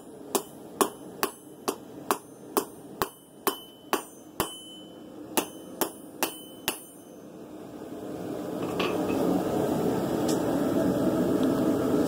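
A hammer forging a steel blade rings out in about a dozen sharp, evenly spaced metallic strikes over roughly seven seconds. A steady roar follows, likely a forge blower or burner, with no talking.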